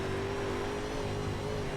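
A UMP modified race car in iRacing on the dirt track at Charlotte, its engine droning loud and steady at high revs with a bumpy, wavering tone, alone without voices.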